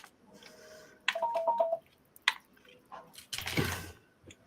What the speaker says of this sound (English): why do I keep hearing a phone?